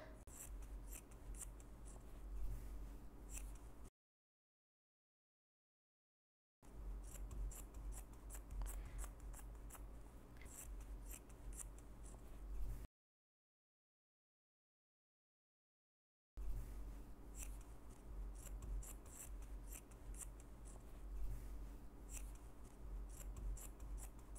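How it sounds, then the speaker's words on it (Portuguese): Scissors snip the excess fabric off a towel sarong, a run of crisp, close, rhythmic cuts broken by two stretches of silence. "Vou cortar essa rebarba."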